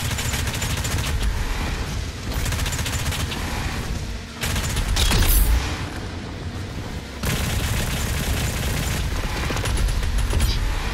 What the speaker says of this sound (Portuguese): Essa arma aqui é muito louca, mano. Com esses mísseis dela